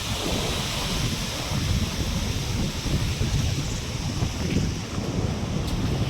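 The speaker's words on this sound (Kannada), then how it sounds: "ಬಂದು ಅಲೆ ಬಂದು ಹೊಡಿತಾ ಇದೆ." Sea waves breaking on the shore at Honnavar beach, a steady, loud broadband wash of surf mixed with wind rumble, continuous throughout with no voices.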